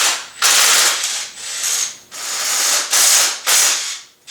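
Ratchet wrench loosening bolts by hand during a Mercedes M117 V8 engine teardown on a 560SL, a series of loud close clicking bursts, five or six quick strokes with short pauses between.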